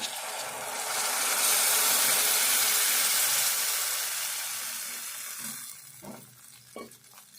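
Thick tamarind juice is poured into a hot pan for a drumstick and green chilli stew, a loud hissing sizzle that swells, then fades to gentle bubbling with a couple of soft clinks.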